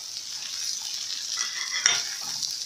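Colored peppers and chicken shawarma stir-fried in a pan give a steady, close sizzle, with a brief stirring scrape near the end and no talking.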